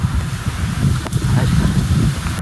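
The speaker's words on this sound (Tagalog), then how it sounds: "Ang lakas po ng ihip ng hangin" Heavy wind buffets the microphone in a constant, loud low roar, gusting unevenly with faint rustling underneath.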